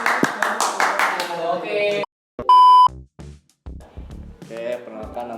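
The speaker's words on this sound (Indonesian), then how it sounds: "beri tepuk tangan semuanya yang meriah" An audience at a festival claps briefly for a performer, a short burst of applause followed by an electronic beep tone and speech.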